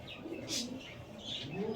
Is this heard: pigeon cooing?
yes